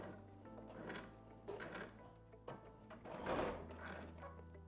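A sewing machine runs a back stitch with blue thread on the top and in the bobbin, a steady close whirring that speeds up and slows in short bursts as the stitching reverses.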